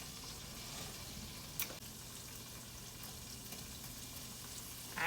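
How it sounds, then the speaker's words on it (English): Onions and garlic frying in chicken drippings in a pan, a soft steady sizzle and hiss heard close by with a couple of brief clicks, fairly quiet and with no speech. "that is what I'm going to brown up the onions and the garlic on"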